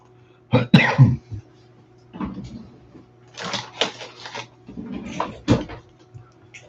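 Several hoarse coughs and throat clearings come in short bursts close to the microphone, with quiet pauses between them and no other sound.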